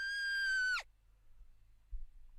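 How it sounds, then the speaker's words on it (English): A single shrill scream rings out, a sustained high-pitched cry lasting under a second that cuts off abruptly into near silence with faint low rumbles. "A shrill scream shatters the silence."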